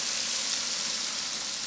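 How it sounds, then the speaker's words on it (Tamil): Onions sautéing in a pan during preparation of a millet breakfast, a steady bright sizzle that holds level throughout the short stretch, with no voices. "வெங்காயம் நல்லா வதங்கி வந்துருச்சுப்பா."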